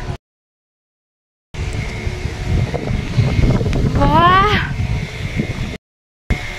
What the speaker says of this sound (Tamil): பாருங்க காத்து எப்படி அடிக்குதுன்ட்டு